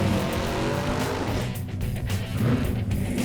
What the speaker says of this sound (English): Kind of a semi-burnout there, Ken, but it sounds nice.